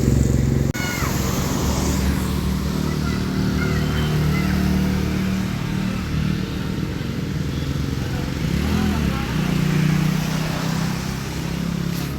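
A vehicle engine drones steadily while driving in the rain, a continuous close hum with road noise throughout and a brief bump near the start.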